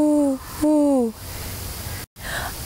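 Mourning dove cooing: two low, smooth, downward-sliding coos in quick succession, fairly close and clear, followed by quiet outdoor background.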